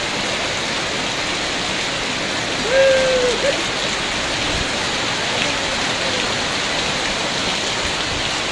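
Heavy rain pours down in Kurseong, Darjeeling, a steady, dense hiss that stays even throughout, with one faint brief tone rising above it midway.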